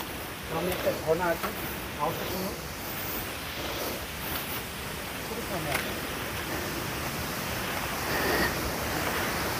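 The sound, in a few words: waterfall nearby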